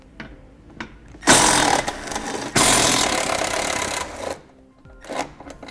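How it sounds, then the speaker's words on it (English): A power tool drives a 13mm socket to remove two bolts under a vehicle's bumper beam during a trailer hitch install, with two loud sustained whirring bursts close by and quieter handling noises before and after. "We're going to need to remove these 2 bolts here. I'm going to be using a 13mm socket."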